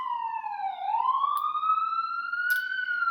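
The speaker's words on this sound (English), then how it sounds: "it's a loud ambulance" An ambulance siren wails, its pitch dipping then sweeping slowly upward, clear and fairly close with a few brief clicks over it.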